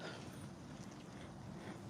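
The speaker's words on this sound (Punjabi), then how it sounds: "ਹਵਾ ਚੱਲਣ ਡਈ ਆ" Steady wind blows outdoors on a cool morning walk in California, a continuous rushing buffet against the microphone with no break or gust peaks.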